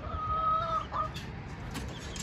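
Chickens clucking close by on a rooftop, a steady murmur of fowl with a few higher drawn-out calls over a noisy background.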